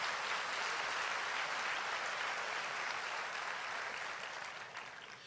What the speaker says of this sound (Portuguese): Você consegue aplaudir a Jesus pela sua palavra agora?